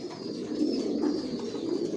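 Racing pigeons coo steadily in a loft, low soft throaty calls repeating over a continuous murmur of many birds, fairly close with faint higher chirps above.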